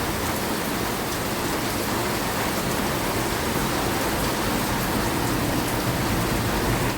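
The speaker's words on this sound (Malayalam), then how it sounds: "പുറത്ത് നല്ല മഴ തുടങ്ങി" Heavy rain falls outside as a dense, even hiss of drops on surfaces, steady and broadband with no break or change in intensity throughout.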